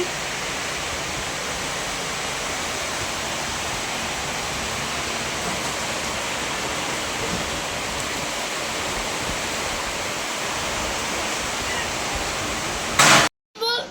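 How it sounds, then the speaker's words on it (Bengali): Steady heavy rain pours down in a hot outdoor setting, a dense unbroken hiss that holds evenly loud throughout before cutting off abruptly near the end. "শুরু হয়ে গেছে বৃষ্টি।"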